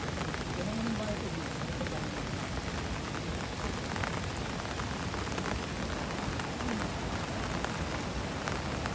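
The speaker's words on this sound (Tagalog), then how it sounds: "Wala na, ang lakas na ng ulan." Heavy rain pours down steadily on surfaces outdoors during a fishing outing, a dense, even hiss close by that holds constant throughout, with faint voices occasionally under it.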